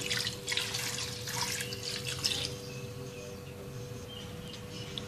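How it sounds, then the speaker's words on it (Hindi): Water pours and splashes into a pot for a few seconds, then tapers into a softer trickle over a low background hum. "3 से 4 कप पानी के शामिल कर देंगे।"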